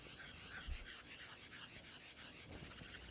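A Koma Asano Nagura stone rubs back and forth on a hard Japanese whetstone to raise slurry, giving a very faint, steady, close gritty scraping with no voices.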